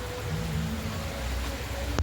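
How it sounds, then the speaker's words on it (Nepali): Heavy rain pouring down outdoors, a dense, steady hiss of drops with no break, close and even throughout. "पानी पुरा भिजिसक्यो, लपक्क पारेर यस्तो पानी परेको छ।"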